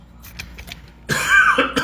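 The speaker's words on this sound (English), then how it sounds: "I have to cough." A single harsh cough rings out close by, followed by a shorter rough throat-clearing cough, after a quiet stretch.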